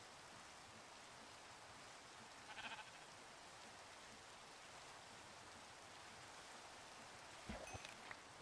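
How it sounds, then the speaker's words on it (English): Steady, soft rain falls in Minecraft, a constant even hiss with a few brief louder blips, low and uninterrupted throughout. "It's raining."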